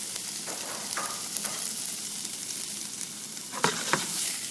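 Food frying steadily in a hot pan during egg preparation, a continuous close sizzle with a few brief crackles and stirring scrapes toward the end, heard alone without talk.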